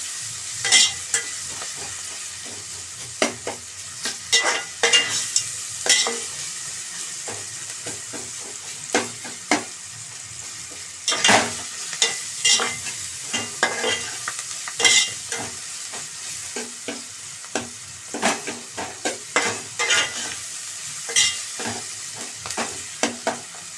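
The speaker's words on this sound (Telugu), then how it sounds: "ఇప్పుడు దీన్ని టమాటాలు మగ్గిన వరకు మగ్గనివ్వండి." Tomatoes with turmeric fry in a pan under a steady, close sizzle, broken by frequent scraping and knocking of a spoon stirring against the pan, with no voices.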